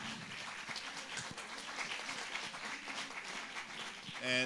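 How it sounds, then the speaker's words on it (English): Symposium attendees applaud a speaker in a hall, a fairly faint, diffuse patter of clapping that stays even until a louder burst at the very end. "I think we can give a big applause to Coati."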